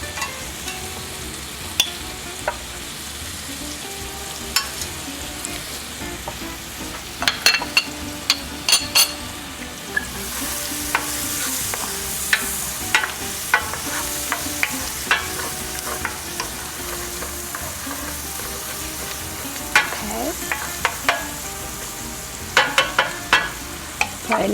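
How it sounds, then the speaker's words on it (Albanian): Chopped onion frying in hot oil in a pan with garlic nearby, a steady sizzle with scattered clicks and scrapes of a spoon stirring, close and continuous without voices. "Po e lëm qepën të skuqet pak"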